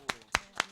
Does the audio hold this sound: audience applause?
yes